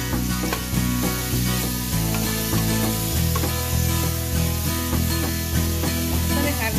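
Tomato and vegetables sizzle in a frying pan while squash and mushrooms stew, a loud, close, hissing crackle with repeated utensil knocks and stirring scrapes, steady throughout without voices.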